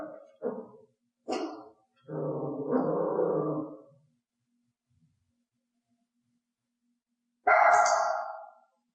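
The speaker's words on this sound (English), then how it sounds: "I want a loud bark" A dog barks loudly several times: a few short barks, then a longer drawn-out one, and after a pause of silence, another loud bark.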